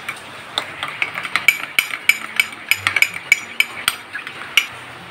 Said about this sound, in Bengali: মিল্ক পাউডারটা দুধের সঙ্গে ভালো করে গুলে নিয়েছি